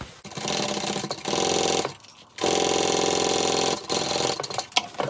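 Domestic sewing machine stitching a handbag slip pocket, a loud close mechanical whir in three bursts with brief pauses between runs, no talking.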